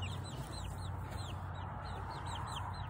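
Speckled hens clucking in a backyard coop, a steady run of short, bright clucks close by over a constant background hum, with no one talking.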